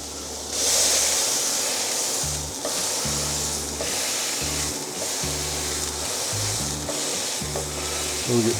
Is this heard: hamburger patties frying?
yes